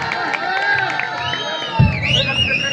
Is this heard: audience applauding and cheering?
yes